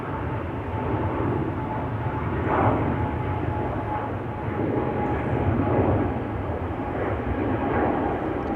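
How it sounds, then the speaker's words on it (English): A KLM Boeing 777-300 taking off from Schiphol's Polderbaan, a heavy steady jet engine roar with a low rumble and a faint whine, loud and sustained, no voices. "KLM 5597. 777-300 to Cape Town."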